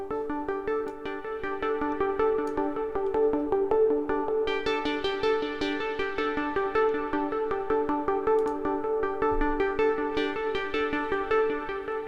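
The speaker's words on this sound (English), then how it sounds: "Then there is a second sequencer sound coming from the modular system over here." A modular synth sequencer voice from an analog patch, Dixie oscillator into Doepfer modules, plays a steady stream of sustained tonal notes with soft pulses, moderately quiet and alone in an ambient setting.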